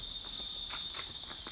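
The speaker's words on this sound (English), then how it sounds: "You can even hear the freaking cricket." Crickets chirp continuously in the countryside near a garden, a steady high-pitched trill that runs throughout, with a few faint footstep-like taps underneath.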